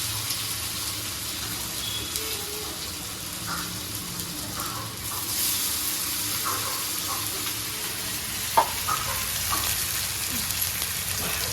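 Fish sizzles steadily in hot oil, a constant crackling hiss with faint stirring and small pops, close and moderately quiet.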